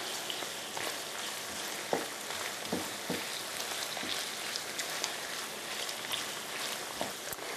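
Tofu, garlic and vegetables sizzle in a frying pan with a steady, dense crackle and occasional sharper pops, heard close and alone.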